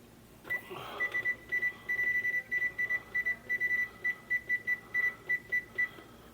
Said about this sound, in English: we're going to set the timer here for